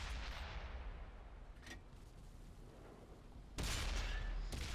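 Tank cannon rounds ricochet off a Tiger I in World of Tanks on Xbox One. There are a few sharp, booming shots: one brief crack early, then two louder, broad blasts near the end over a low rumbling battle background.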